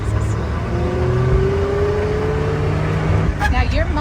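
A 1937 Buick drives along country roads, its engine droning steadily from inside the cabin with a faint rising whine, then gear noise and a shift near the end.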